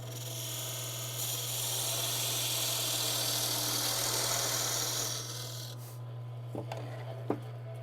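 A lathe tool cuts into a spinning piece of wood during spindle turning, lifting rough raised fibres. A loud, steady rasping hiss sounds over a constant motor hum for about five seconds, then stops, leaving the hum and a few light knocks.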